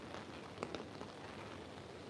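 Steady rain patters over an exposed coastal headland at Cabarita, a soft continuous hiss with a few brief louder drops, fairly quiet and with no voices.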